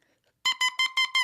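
A handmade oboe reed on an Ingle gouge gives five quick, bright pulsed beeps in a fast even rhythm, close and alone after a brief quiet moment.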